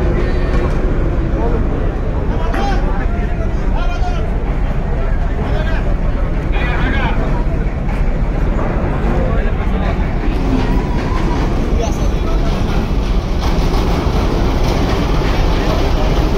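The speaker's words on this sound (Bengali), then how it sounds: "ছেড়ে যাচ্ছে এম খান 7 লঞ্চ বরিশাল ঘাট থেকে ঢাকার উদ্দেশ্যে।" The passenger launch M Khan 7 pulls away from the Barisal river port toward Dhaka, its engine giving a loud, steady, rumbling drone with crowd noise throughout and someone talking over it.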